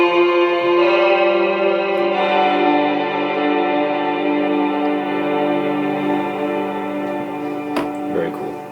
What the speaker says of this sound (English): It's like some type of Eastern Asian stringed instrument,